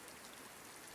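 Steady rain pouring in a Hogwarts Legacy game trailer, a continuous soft hiss of falling drops, faint and even throughout with no voices.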